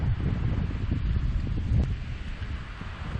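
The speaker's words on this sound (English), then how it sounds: "With this kind of day going on with the wind" Wind blowing outdoors during plein air painting, buffeting the microphone as a constant low rumble and rushing noise with slight gusts, fairly close and with no speech.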